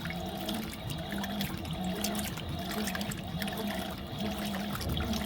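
Fisher and Paykel MW059 washing machine washing a full load of colors, steady sloshing water churning with a rhythmic agitator swish, continuous and moderately close.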